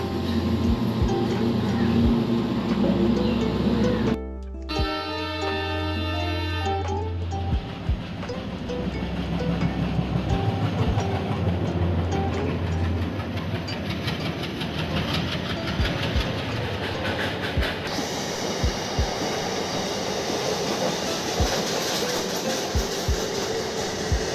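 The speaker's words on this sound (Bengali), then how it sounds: "ওই দেখো একটা ট্রেন আসছে" Train arriving at Bhadreswar station, a steady rumble of rolling wheels and engine with a short horn blast early on, continuing close and loud under busy platform noise.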